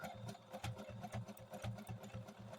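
Sewing machine stitching a zigzag at 2.5 width and 1.4 length, backstitching on a quilted placemat: a steady, close mechanical whir with a rapid pulsing rhythm repeating evenly throughout.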